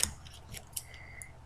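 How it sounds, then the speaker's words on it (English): Scissors snip through duct tape in a few quick, close cuts with small ticking clicks between, faint and alone. "And I'm going to cut the tape."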